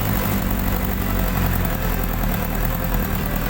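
A Honda CBR 1000 engine swapped into a Polaris RZR idles with a steady, even low rumble throughout, close and continuous, with no voices.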